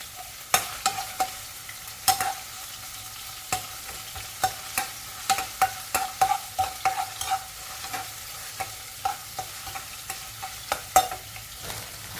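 Instant noodles stir-fried in a wok with ground pork and a little dried shrimp, a spatula scraping and clacking in a steady irregular rhythm over a soft, continuous sizzle, close and clear.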